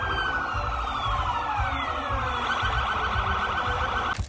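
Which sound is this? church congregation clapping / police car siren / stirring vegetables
police car siren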